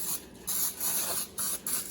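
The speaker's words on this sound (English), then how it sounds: "I'm just also gonna quickly spray the sides of the pan with some Pam cooking spray" Pam cooking spray is sprayed onto the sides of a cake pan in a series of short hissing bursts, close to the microphone and separated by brief pauses.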